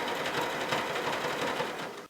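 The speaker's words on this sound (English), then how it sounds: "I'm just going to stitch here and come around so I can do it in one clean motion." Sewing machine stitching a fleece appliqué, a steady, fast, even whir of the needle running for about two seconds before stopping abruptly, close and clear, with no talk.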